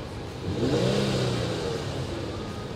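A Nissan Skyline 400R engine revs up and then eases back, the exhaust note rising and falling in one smooth, fairly close pull.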